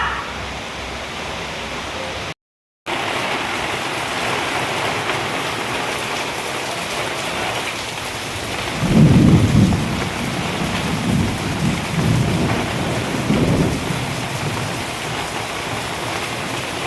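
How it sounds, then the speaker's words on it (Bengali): Steady heavy rain pours outside during a storm with the power out, a continuous hiss broken by a brief dropout, while rolling thunder rumbles low in two swells midway through. "এদিকে বাইরে হচ্ছে বৃষ্টি"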